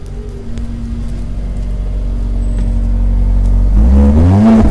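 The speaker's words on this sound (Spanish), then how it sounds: "vamos a acelerar y mostrarles qué tan rico suena en la parte de atrás" A 2018 Mercedes-Benz GLA in Sport Plus mode, its engine revving from a steady idle into a loud climbing rev heard from the exhaust at the rear, with no talk over it.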